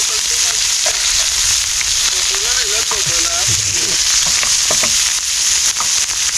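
Fish frying on a tawa over an outdoor stove in a creekside jungle, with a loud, steady, close sizzle running throughout while a voice talks over it.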